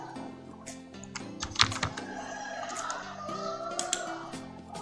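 Numbers are typed on a computer keyboard in quick, irregular clicks, close and moderately loud, over a faint background hum.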